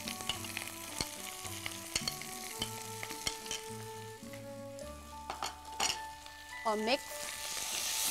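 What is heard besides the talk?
chicken frying with garlic in a pan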